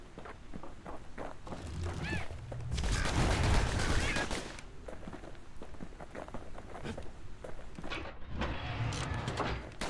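Rapid revolver gunfire from a super move in the action game Bastion, a dense loud burst of shots lasting a couple of seconds, set among scattered game sound effects and footstep-like taps.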